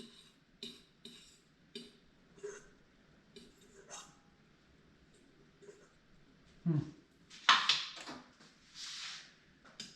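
A metal spoon clinks and scrapes inside a cooking pot while fishing out a stray bit of shell during squash and sweet potato soup prep, giving a few close, irregular clatters with a voice talking in between.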